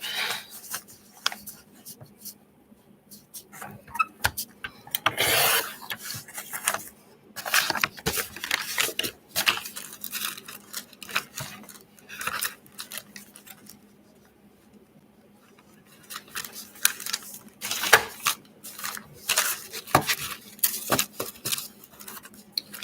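Scissors cut paper down to size for a patchwork quilt journal, making short runs of snipping and paper rustle that stop and start. There are quiet pauses between the bursts.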